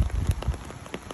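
Steady rain falls on surfaces in Durlach, Germany, a soft, faint patter of drops over a low rumbling wash, heard briefly with no voices.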